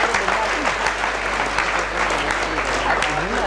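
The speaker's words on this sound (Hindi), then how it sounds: "एक बार जोरदार तालियां उन सभी कार्यकर्ताओं बच्चों के लिए" Enthusiastic audience applause at a public talk in India, a dense steady patter of many hands clapping at close range, filling the room without pause.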